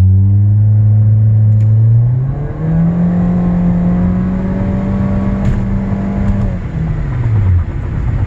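A 2013 Nissan Altima with a muffler delete revs up loudly close by, its raspy exhaust drone climbing, holding at a higher pitch for several seconds, then dropping back to a deep idle.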